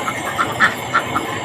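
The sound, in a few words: ducks quacking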